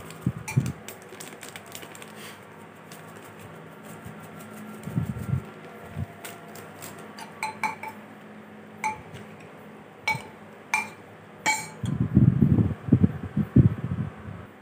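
Chana chaat being stirred in a bowl with chaat masala, giving scattered clinks and scrapes of a spoon against the dish, some louder clusters near the end, over a steady low background hum with no talking.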